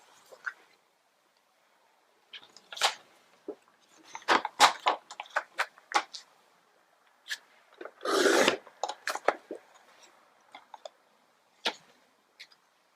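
A paper piece for an Easter shaker card is trimmed down with a series of short, dry scraping and snipping strokes. They come in irregular bursts with quiet gaps between, and one longer rasp falls in the middle.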